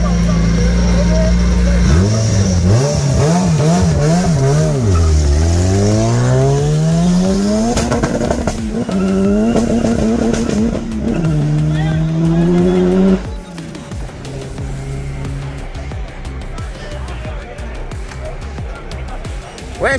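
A race car engine, a nitrous Toyota 2ZZ-GE or Nissan SR20 VVL front-wheel-drive drag car, revs loudly, its pitch climbing and falling in repeated surges, then cuts to a lower idle over background noise.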